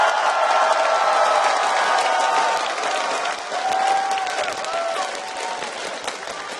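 A large crowd at the League of Legends World Championship quarterfinal cheering and clapping loudly, with whistles and shouts rising above a sustained roar that eases slightly toward the end.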